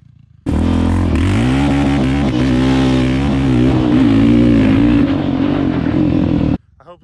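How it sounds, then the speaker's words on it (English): Honda ATV engines, a TRX700XX against an Odyssey FL350, rev hard and hold near the limiter for about six seconds, a loud, close, continuous droning roar that starts and stops abruptly. "I need more of that where he's hitting the rev limiter for 2 seconds at a time"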